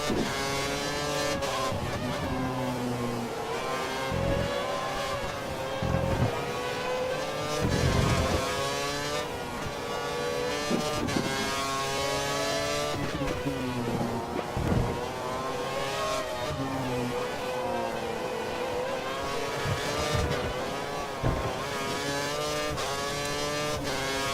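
Formula 1 race car engine in the F1 2013 video game, racing a Sauber at the Korea circuit: a loud, continuous high-pitched whine that rises and falls steadily with gear changes and braking, other cars audible around it.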